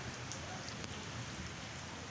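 Rain falls in the United Arab Emirates as a steady, even hiss that stays constant throughout, with no voices.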